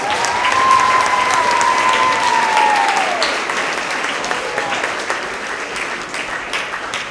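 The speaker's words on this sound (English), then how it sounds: "So let's give them another round of applause." Loud, steady applause fills the hall at a 6th–8th grade end-of-year school award assembly, with a sustained whistle-like tone ringing over the clapping in the first few seconds.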